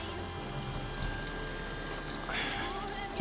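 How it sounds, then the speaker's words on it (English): Water is poured into the cooling system of a supercharged engine, a soft continuous splash and trickle that brightens into a stronger gush near the end, heard fairly faintly. "Now I'm gonna keep adding water"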